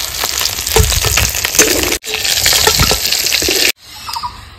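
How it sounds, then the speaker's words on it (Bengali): Bay leaves, dried red chillies and whole cumin hitting hot oil for tempering, a loud crackling sizzle with stirring scrapes that cuts out briefly, then drops to a faint hiss at the end. "ফোড়নে দিয়ে দেবো দুটো তেজপাতা, দুটো শুকনো লঙ্কা, গোটা জিরে"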